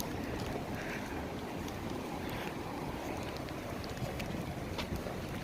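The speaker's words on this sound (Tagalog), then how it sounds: "Mainit na mahangin." Strong wind buffets the microphone outdoors on a hot, windy day near a bridge, a steady, loud roaring rush without pauses.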